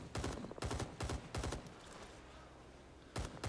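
Rising Storm 2: Vietnam gunfire: four quick, loud, evenly spaced bursts of close automatic shots, then a lull with faint background rumble, and another short burst at the end.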